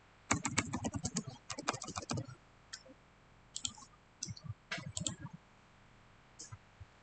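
Computer keyboard typing in quick bursts of close clicks with short pauses between, ending in a sharper single keypress, no voices.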